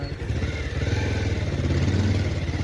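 A motorcycle rides in and is parked. Its engine runs with a steady, close, low throb for the whole stretch.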